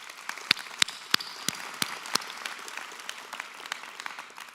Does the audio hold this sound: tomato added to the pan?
no